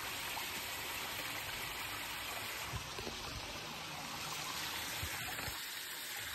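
The Bhatera river stream rushes past in a steady, close wash of flowing water, broad and unbroken for the whole stretch, with no voices over it.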